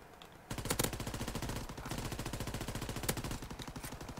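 Rapid machine gun fire in the World War II shooter Call of Duty WWII multiplayer, a sustained, steady burst of evenly spaced shots starting abruptly and running loud and continuous with no talk.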